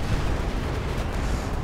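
A Stuka firing in a World War strategy game, a dense, low rumbling barrage of blasts that roars steadily and loudly through the whole moment.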